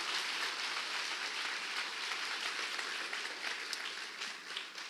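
A church congregation applauds Jesus together, a dense, steady wash of many hands clapping throughout, even and sustained like rain, with no voices rising above it.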